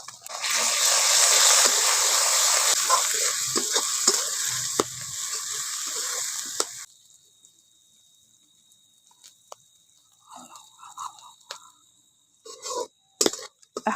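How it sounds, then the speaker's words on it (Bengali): Ginger, onion and garlic paste frying in a pan, a loud steady sizzle with stirring scrapes for about seven seconds, then the sizzle drops away to faint crackles and occasional utensil clinks. "এখন আদা পেঁয়াজ রসুনটাকে একটু ভালো করে ভেজে নিয়েছি"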